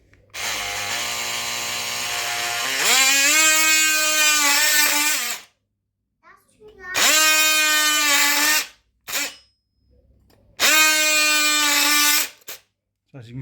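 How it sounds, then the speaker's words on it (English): An oscillating multi-tool cuts into a crack in a plaster wall with three loud, close, high-pitched buzzing bursts separated by short pauses, accompanied by a faint scraping sound. "So this is my oscillating tool."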